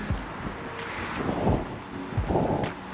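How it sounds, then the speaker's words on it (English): Wind gusts at Blyth beach buffet the microphone in low, uneven rumbles, with faint rhythmic taps running through. "this is really quite a breezy one today"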